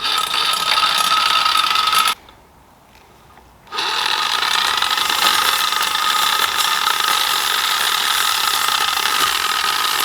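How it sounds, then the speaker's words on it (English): A homemade saw blade spins on an 18-volt battery with a steady mechanical whir and faint rattle, close and continuous, cutting out briefly for about a second before resuming at the same level. "I think the blade spins too slow with the 18-volt battery and the setup I have."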